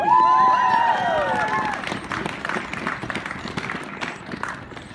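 An audience at a climate speech bursts into applause and cheering, a dense wash of clapping that starts loud with a whoop and slowly thins out over several seconds.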